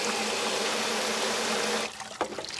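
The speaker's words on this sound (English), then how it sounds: "Oh, there's a little bit of water coming off the edge." Rainwater pours steadily off the edge of a 3D-printed self-cleaning downspout filter outdoors, a continuous close splashing rush that abruptly drops to quieter trickling and drips.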